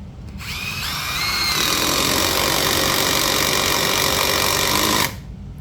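A Milwaukee Surge impact driver running in second gear, a loud, continuous whining motor hum that starts abruptly, rises in pitch over the first second, holds steady at close range and then cuts off sharply.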